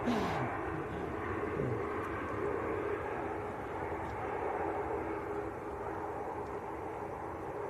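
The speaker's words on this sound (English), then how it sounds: "It's a very nose-up landing." An airliner landing nose-up at Manchester Airport produces a faint, steady distant engine rumble, with no voices over it.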